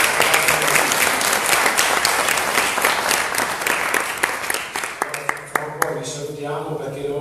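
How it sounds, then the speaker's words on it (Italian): Loud audience applause at a wine event featuring two Bluvolley Verona volleyball players, dense steady clapping from a crowd that thins and fades over the last two seconds into scattered claps. "Un applauso."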